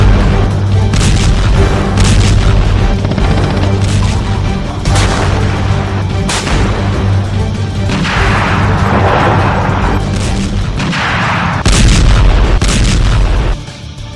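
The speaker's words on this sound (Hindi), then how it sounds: "रूसी सेना ने यूक्रेन के बम और बारूद से भरे गोदामों को धमाके के साथ उड़ा दिया है" Ammunition depots blowing up in a war zone, a dense sequence of loud deep booms and blasts with crackling secondary detonations, repeating irregularly and filling the whole stretch before fading at the end.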